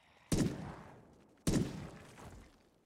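Two pistol shots in Project Zomboid, each a sharp loud crack with a trailing decay, spaced just over a second apart, with no talking over them.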